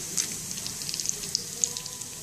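Cinnamon, cloves and star anise dropped into hot oil for jeera rice, giving a soft steady sizzle with scattered light pops and crackles, close and fairly quiet, with no talking.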